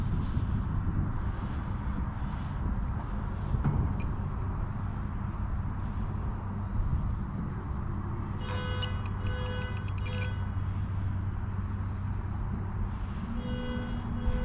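A small UMX Voodoo RC model airplane flies in strong wind, its motor a steady buzzing drone under constant wind roar, with a few faint high beeps partway through.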